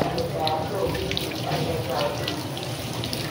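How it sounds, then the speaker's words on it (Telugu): Water runs steadily from a tap as hands are washed at a hand-wash station at the Golden Temple in Amritsar, a continuous close wash with faint voices in the background. "హ్యాండ్ వాష్ కంపల్సరీ అనమాట, హ్యాండ్ వాష్ చేసుకొని వెళ్ళాలి"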